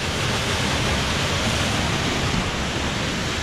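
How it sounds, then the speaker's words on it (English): A small waterfall on Vancouver Island rushes with a steady, dense roar, close and unbroken from start to finish, with no voices. "One more last view of this little waterfall."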